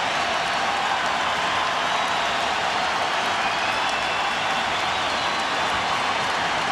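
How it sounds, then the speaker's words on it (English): Basketball arena crowd at a 2005 NBA playoff game between the Nuggets and Spurs roars and applauds in a steady, dense wash of cheering, fairly loud and continuous throughout. "Crowd loves it."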